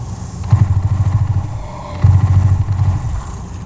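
Motorcycle engine in the video game 7 Days To Die revving twice in quick succession, a loud, close, rough throbbing roar with no voices.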